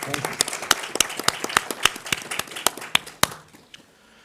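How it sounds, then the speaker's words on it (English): Scattered claps from a small conference audience in a live-streamed session honouring a guest, sharp individual hand claps in an uneven rhythm that thin out and fade near the end. "Can we give a big round of applause to Anirudh?"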